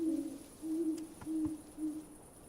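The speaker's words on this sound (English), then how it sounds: "Is that why we're hearing owls?" Owl hoots in a Minecraft modpack world, four soft, low two-part calls spaced about half a second apart, repeating steadily and alone over a quiet background.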